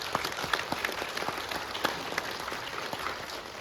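An audience at an intellectual property and copyright event applauds an honored teacher, a steady, moderately loud patter of many hands clapping for a few seconds.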